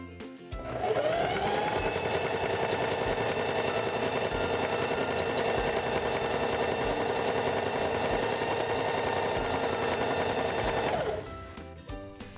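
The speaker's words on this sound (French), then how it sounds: "Placez le tissu en dessous du pied presseur, abaissez le pied presseur et débutez la couture." A Singer 4411 heavy duty sewing machine stitches fabric in one long, even run of rapid needle strokes, starting and stopping cleanly after about ten seconds, loud and close with no talk.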